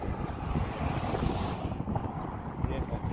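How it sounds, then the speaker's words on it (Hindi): Strong wind blows at the seaside in Hingol National Park, Balochistan, Pakistan, a loud continuous rumble buffeting the microphone with a rushing roar and possible surf underneath. "अभी बहुत हवा चल रही है"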